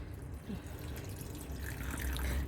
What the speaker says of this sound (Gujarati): આપણે એની અંદર શીંગો ડૂબે ને એટલું પાણી એડ કરશું.